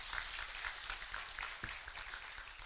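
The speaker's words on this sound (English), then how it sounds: "Let's give Prof another round of applause." An audience at a Universal Health Coverage collaborative meeting chaired by Professor Kindiki claps in a steady, moderately distant round of applause that fills the room, with no voices over it.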